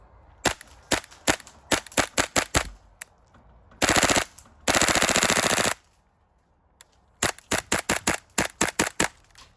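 A Tokyo Marui MP7A1 gas blowback airsoft rifle firing: close, sharp reports in quick semi-auto strings, interrupted by two short full-auto bursts in the middle, then another rapid run of single shots, with quiet pauses between groups and no talking.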